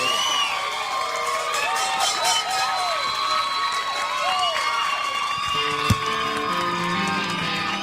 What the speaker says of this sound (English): How about a huge round of applause for Corey Feldman and Truth Movement?